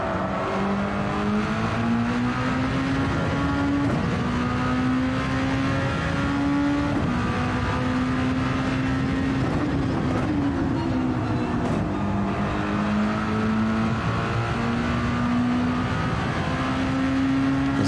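A race car engine in the Gran Turismo 7 video game drones loudly and continuously, its pitch climbing and dipping as it shifts through gears, with no talking over it.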